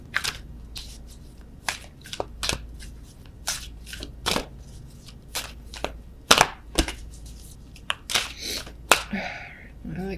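Oracle cards being shuffled by hand in a quiet room, giving a series of sharp, irregular riffling snaps and flutters with short pauses between bursts, close and fairly soft.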